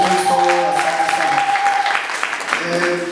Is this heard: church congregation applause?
yes